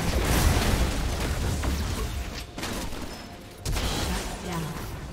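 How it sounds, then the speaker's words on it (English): A turret is destroyed in League of Legends with a loud burst of crumbling, explosive debris. Rumbling blasts come in a couple of waves with a short lull between them. "Blue team's turret has been destroyed."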